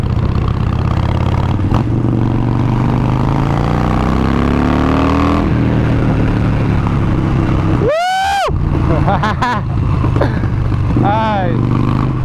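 A loud Harley-Davidson 72 motorcycle engine rumbles steadily throughout, with a voice talking over it and a brief high whine near the end.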